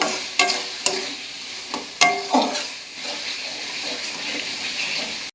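Potatoes being stirred and fried in a pan for chana masala: a few sharp clinks of a spatula against the pan, then a soft, steady sizzle underneath, close and moderately loud, with no talking.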